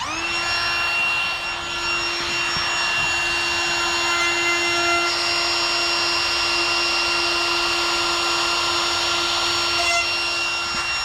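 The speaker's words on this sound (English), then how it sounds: "Is that the DEWALT router that's DEWALT cordless?" A DeWalt cordless router trims a hinge recess in a door, its motor holding a loud, steady high-pitched whine with a constant tone from start to finish and no voices.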